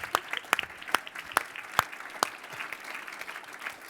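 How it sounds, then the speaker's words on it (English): A few people clap in sharp, evenly spaced claps that thin out into light scattered clapping, close and moderately loud. "Round of applause."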